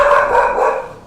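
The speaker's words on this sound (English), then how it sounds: "Sorry about the dog." A dog barking during a live stream, giving one loud, close, drawn-out bark or yelp of about a second that fades at the end, with no speech.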